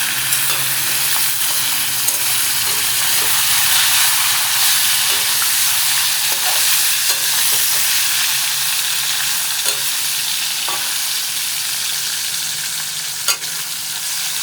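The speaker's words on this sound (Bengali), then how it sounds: "এই মাছ ভাজা ছড়িয়ে দিলাম" Fish frying in smoking-hot oil on a home stove, a steady close sizzle and crackle running throughout with a few faint clicks, no voices.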